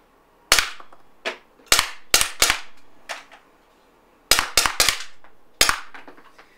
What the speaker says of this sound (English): This gun uses a lot of gas for blowback, so don't expect to have like many mags of rapid shooting.